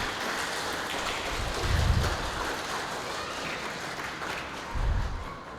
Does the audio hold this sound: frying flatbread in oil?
no